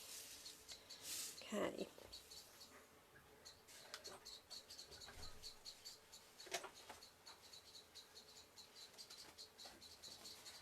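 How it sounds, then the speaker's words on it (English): Repeated sharp alarm calls of a mother blackbird outdoors, a steady series of high chirps and ticks over insect chirring, fairly faint and distant, with a brief spoken word and some nearby handling noise. "The mother blackbird is telling the babies that the cat is around."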